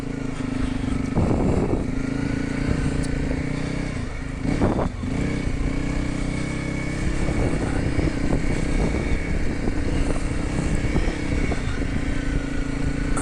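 A Honda CRF300L dual-sport motorcycle rides around a track, its single-cylinder engine droning steadily and close with light throttle changes and wind rush throughout.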